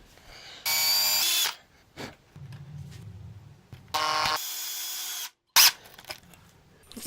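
Power drill driving screws to fix a wooden handle to a small plank, two loud whirring bursts of about a second each plus a short final spin, separated by quiet handling and knocks.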